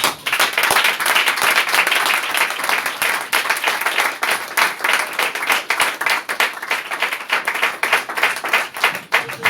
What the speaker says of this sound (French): Est-ce qu'on peut acclamer le Seigneur quand même?